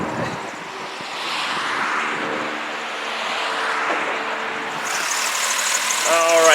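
A Chrysler 3.8 liter V6 in a 2007 Chrysler Town & Country minivan idles with a steady, even hum, with a brighter hiss coming in near the end.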